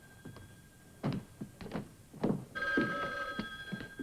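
A telephone bell rings in bursts, a bright metallic trill repeating a few times over faint room noise.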